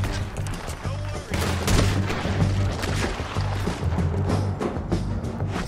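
Rifle gunfire in Red Dead Redemption 2 during a shootout with the Skinner Brothers, a rapid series of loud sharp shots and booms over busy game noise.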